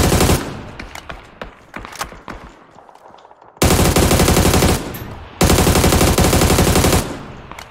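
Rifle fire in the squad shooter PUBG: scattered single shots and short bursts early on, then two long, loud sustained automatic volleys, close and dominant, with brief gaps between them.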